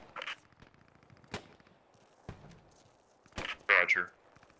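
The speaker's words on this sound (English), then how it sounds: "And I'm taking sniper shots here." Scattered sniper shots in a World War II Market Garden battle game, with several sharp, separate cracks spaced a second or so apart and a louder pair near the end, while voices talk over radio between them.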